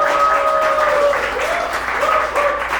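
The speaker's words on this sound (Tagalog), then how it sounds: "isang palakpak para sa kanila." Audience applause fills a youth Christmas party, a steady wash of many hands clapping at close range, with a faint tonal whine running beneath it.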